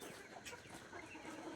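Broiler chickens cluck steadily in a farm shed, a continuous close-up chorus of soft overlapping clucks and chatter with no pauses.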